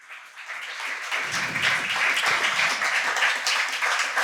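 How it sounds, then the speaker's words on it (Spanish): Audience applause at a university inaugural lecture on physical education and sport, swelling after a quiet start into steady, dense clapping from a sizable crowd that carries on without pause. "por favor, un aplauso para el doctor Arturo"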